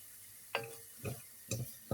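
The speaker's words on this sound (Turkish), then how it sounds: "Unumla beraber de şu şekilde karıştırıyorum" A spoon stirring flour into celery soup in a pot, four soft evenly spaced scraping taps, faint and close.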